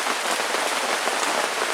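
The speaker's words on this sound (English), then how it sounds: "Still raining." Steady rain patters on a tarp over a small tent outdoors at a lakeside campsite, a continuous even hiss with no voices.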